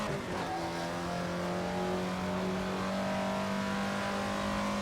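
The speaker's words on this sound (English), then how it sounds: "really opening it up down the straight into the third lap" A 1955 Jaguar D-Type racing car in Assetto Corsa, on a Scottish Highlands track, climbs through the revs down a straight, its engine note rising steadily and loud, heard close up and alone.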